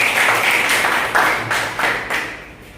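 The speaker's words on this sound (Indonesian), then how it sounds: "Kita kasih aplaus untuk pemaparan dari kelompok 3" Classroom applause for a group presentation at an Indonesian elementary school, a dense wash of many hands clapping steadily close by, swelling in short waves and tapering off toward the end with no talking.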